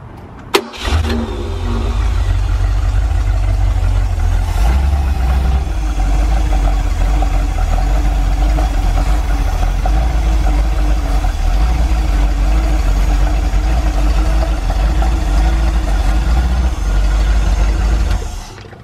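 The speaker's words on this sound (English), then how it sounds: "So we're going to start the engine." An inboard boat engine being winterized, pulling antifreeze from a bucket through the block while fogging, cranks and catches, then runs at a loud, steady, low-pitched idle for the rest of the stretch, close up with no talking.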